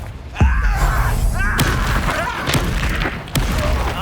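A Confringo fire spell cast in the Hogwarts Legacy video game lands as a loud booming blast at the start, followed by crackling magical effects and a few more thuds. A character shouts over the top.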